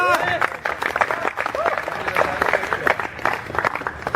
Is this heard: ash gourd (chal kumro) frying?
no